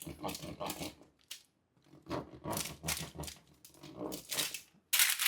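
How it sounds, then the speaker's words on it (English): A pizza cutter rolling through a vegan lentil pizza topped with greens, making close crunchy scraping bursts, several separate cuts with short silent gaps between them. "Now I'm going to grab the pizza cutter, and I like to just cut this in half here."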